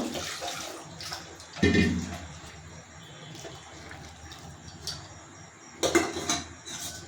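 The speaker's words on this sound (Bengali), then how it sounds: "আর একটু জল দেব।" Water is poured into a cooking pot, with a couple of brief splashy gushes over a low background hiss and faint clinks.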